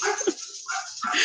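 Dogs play fighting, with sharp barks, yips and whimpers in quick irregular bursts, close and fairly loud, with no speech.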